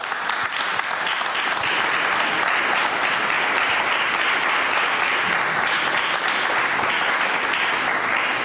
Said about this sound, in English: can we give a round of applause to our distinguished panelists,